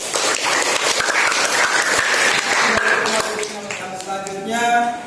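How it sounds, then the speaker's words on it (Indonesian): Students in a classroom applaud together during a religious education lesson, a close burst of brisk clapping for about three seconds that fades as a voice begins talking. "Kita beri tepuk tangan untuk semuanya."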